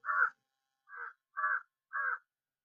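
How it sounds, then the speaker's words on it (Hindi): Four harsh crow caws ring out clearly on a morning walk, one then a pause and three more in steady rhythm, against silence. "कौओं की आवाज़ आ रही है।"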